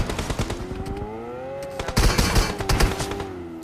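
Gunfire in the mobile battle royale game BGMI, with repeated bursts of shots, some closer and louder, over a steady in-game background hum.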